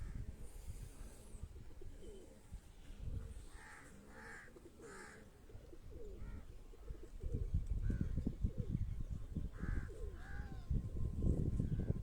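Breeder pigeons coo in a series of soft, throaty calls close by, repeating at irregular intervals over a low background rumble and handling noise.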